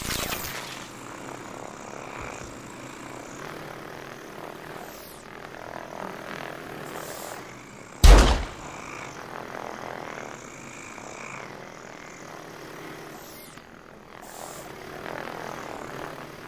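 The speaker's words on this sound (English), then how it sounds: "Friendly sniper drone inbound." A sniper drone flies in during Call of Duty Advanced Warfare multiplayer, a steady propeller-like engine drone with a sharp loud burst near the middle, fading and returning in faint swooping passes.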